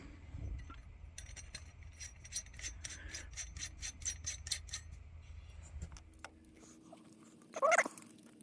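An old Kamplite lantern spring held in a vise is cleaned with a quick run of dry rasping, scraping strokes, faint and close, followed by quieter rubbing and a brief sharp metallic clink near the end.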